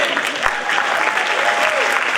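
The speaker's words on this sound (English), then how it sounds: "let's hear a huge round" Audience at a jazz festival applauds the student musicians with a thick, continuous wash of clapping from many hands, a voice faintly present beneath it.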